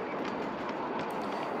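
A model railway train runs steadily around a banked curve on a scale layout, giving a continuous close rolling rumble with faint rail clatter throughout.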